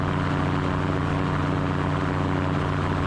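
A Super Petrel light aircraft engine drones steadily and loudly during a slow descent toward landing, a constant close-up hum with no speech over it.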